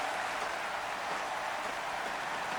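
A film audience applauds Rocky in a dubbed scene: dense, even clapping fills the whole stretch with no pause.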